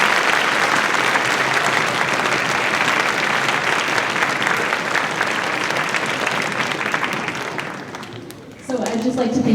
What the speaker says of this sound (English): another round of applause for those